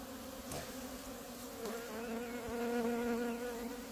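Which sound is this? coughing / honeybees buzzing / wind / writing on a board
honeybees buzzing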